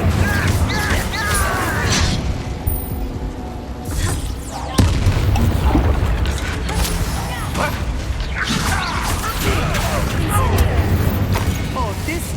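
Incendio, a fire spell in Hogwarts Legacy, is cast amid a busy combat scene, with booming bursts, whooshes and crashes over a continuous roar, and game voices speaking briefly.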